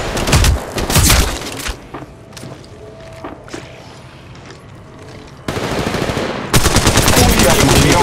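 Rapid automatic gunfire from the mobile shooter Apex Legends Mobile in a ranked match, loud bursts at the start and end with a quieter stretch of footsteps and mechanical clicks between.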